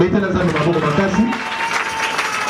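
A church congregation applauds loudly and steadily throughout, a dense wash of clapping under a voice at the start of a prophetic preaching service.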